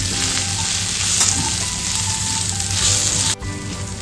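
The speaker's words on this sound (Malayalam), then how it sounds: "ഇതിലോട്ട് നമുക്ക് ബാക്കിയുള്ള ജിഞ്ചർ ഗാർലിക് പേസ്റ്റ് ചേർക്കാം. നല്ലപോലെ ഇളക്കി കൊടുക്കാം." Ginger garlic paste and onions fry in a pan for a pork curry, giving a loud, continuous close sizzle with stirring scrapes and a brief dip near the end.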